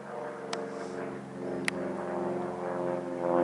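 Jet tanker aircraft passing overhead, a steady low roar that swells slightly toward the end, with two sharp brief clicks along the way and no talking.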